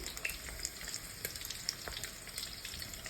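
Cameroonian pistachio (egusi) seeds roasting in a pan give a soft, steady sizzle with scattered light crackles and pops, fairly faint and continuous throughout.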